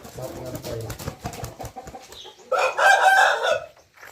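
People talk, then a chicken lets out a loud, drawn-out crow nearby.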